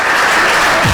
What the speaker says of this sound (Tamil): ராமருக்கு கைத்தட்டு.